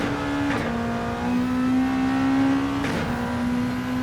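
A race car engine held at full throttle in Gran Turismo 7 during an endurance race, a steady high droning whine with a brief gear-change blip near the start and another near the end.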